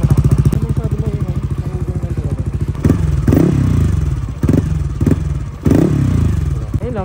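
A motorcycle's warmed-up engine sounds through its exhaust pipe, starting with a fast, even idle putter, then several sharp throttle blips that rise and fall, close and loud.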